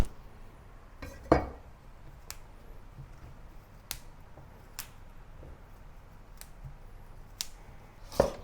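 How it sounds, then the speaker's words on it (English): Knife slicing broccoli into small florets on a cutting board, heard as sparse, crisp clicks and snaps at irregular intervals with a couple of louder knocks, close and quiet. "Cut the broccoli into small florets."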